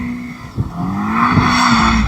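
A BMW M5 CS drifts on a damp track, its tyres letting out a sustained, close squeal over the engine's drone. After a brief bump the squeal builds louder and steadier.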